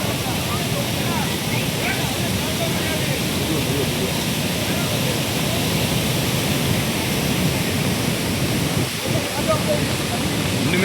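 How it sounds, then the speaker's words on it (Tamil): Flooded Courtallam waterfalls in Tenkasi district roar after heavy rain, a dense, steady broadband rush of pounding water that stays loud and unbroken throughout. "தென்காசி மாவட்டத்தில் கனமழை தொடர்வதால் குற்றால அருவிகளில் கடுமையான வெள்ளப்பெருக்கானது ஏற்பட்டிருக்கின்றது."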